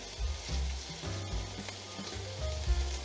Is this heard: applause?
no